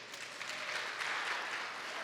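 Applause from a crowd, steady clapping that fills the whole moment with no voices over it.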